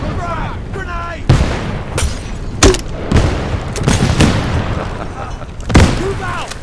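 Grenade blasts and rifle fire crack out in several sharp bursts during a Vietnam-era firefight in the SOG game, loud and close, with shouted voices in between.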